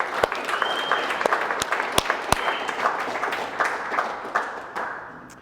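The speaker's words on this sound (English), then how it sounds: "Give him a round of applause real quick, guys." An audience at a team update meeting applauds, steady clapping with a few sharp close claps standing out, fading gradually toward the end.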